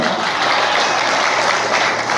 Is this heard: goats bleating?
no